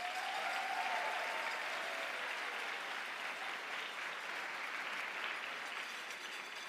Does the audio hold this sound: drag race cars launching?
no